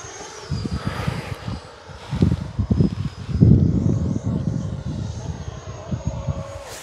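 An FMS Avanti S 70mm electric ducted-fan RC jet on a 6S battery flies past outdoors, a whooshing turbine-like whine swelling and fading with the distance, over wind noise and handling sounds.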